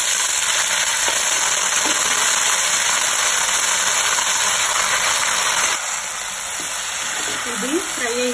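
Boiled canopy beans with a few curry leaves sizzle loudly in a hot pan, a steady, close hiss of frying oil that runs continuously and eases slightly toward the end.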